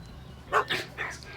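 A dog gives a few quick, close barks in a short burst.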